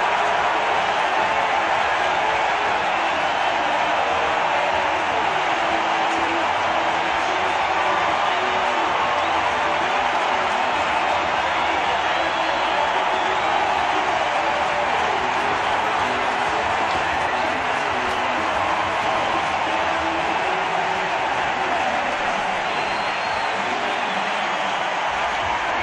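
A baseball stadium crowd roars steadily and loudly after a game-tying home run, a sustained wall of cheering with no letup across the whole stretch.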